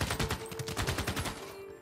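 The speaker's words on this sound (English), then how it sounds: "That was actually a artillery unit that fired on me." Artillery unit firing in Civilization VI, a rapid burst of repeated loud booming shots in quick succession, close and dense before fading out.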